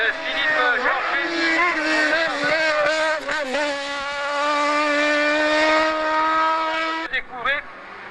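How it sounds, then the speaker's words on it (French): A Renault-engined formula race car climbs a hill-climb course, its high-pitched engine whining steadily and shifting through revs, loud and fairly near, with a voice speaking over it. "Nous accueillons la 11, la formule animée par un moteur Renault de Philippe Georges"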